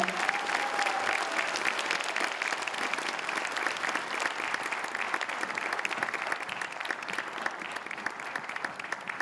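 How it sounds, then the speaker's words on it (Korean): A crowd at a year-end foundation event claps at length, sustained applause that stays even and fairly loud for several seconds, with a brief whistle early on. "여러분 박수로 환영해 주십시오."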